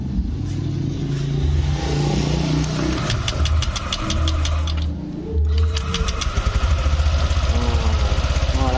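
A Honda Vario 125/150 scooter engine, with its thermostat bypassed after a water pump seal change, starts and idles nearby with a steady rattly putter, then picks up into quicker rhythmic pulsing.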